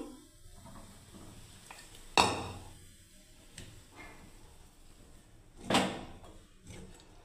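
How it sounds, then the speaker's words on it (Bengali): A wok set down on a home kitchen stove for a mixed vegetable curry, two sharp metallic clunks a few seconds apart over quiet room noise, close and fairly loud. "এবার আমি কড়াই চাপিয়ে দিচ্ছি বন্ধুরা"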